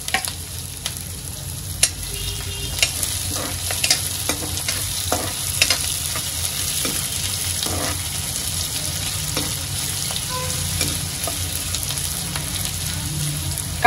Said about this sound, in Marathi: आपला कांदा जो आहे तो तेलामध्ये चांगला फ्राय करून घेते।